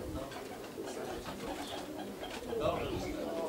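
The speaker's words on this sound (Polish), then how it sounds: "Pojawiły kolejne dwa gołębie" Soft cooing of racing pigeons close by as they return to the loft, a few low throaty calls under people chatting nearby.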